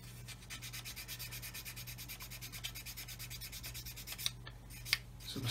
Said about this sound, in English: So we'll sand that out as good as we can, just sort of try and blend it a bit.